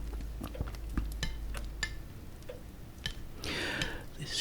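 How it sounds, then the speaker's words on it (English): Cutlery tapping on plates and bowls at a dining table set with tomato soup and grilled cheese, a series of light, sharp clinks spaced irregularly and close by, followed near the end by a brief scraping rustle. "she likes the sound of cutlery tapping on plates and bowls and such"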